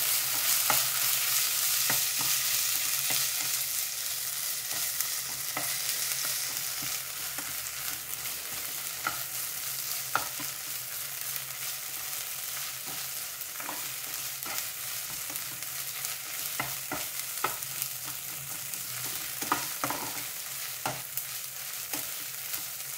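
Ginger paste frying in a pan while being stirred, a soft steady sizzle with light scraping and tapping strokes of the spoon throughout, fairly quiet and close, no talking.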